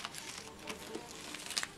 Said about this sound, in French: une pluie de petits carrés de chocolat, comme ça